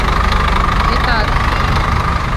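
A vehicle engine runs steadily while driving toward a village, a loud, even, close mechanical drone with low rumble and no change in pace.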